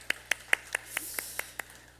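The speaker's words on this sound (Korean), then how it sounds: "다시 한번 박수할까요?" A youth church congregation applauds in a short burst of about eight sharp, evenly spaced claps with a light hall echo, sounding like a modest group rather than a large crowd, and no voices are heard.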